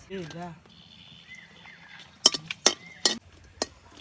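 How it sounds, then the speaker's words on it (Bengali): Oil sizzles softly as dried chillies fry in a wok while a metal utensil clanks and scrapes a few times; a short burst of talk opens the clip. "শুকনা মরিচটারে আমি একটু ভাজে নিছি"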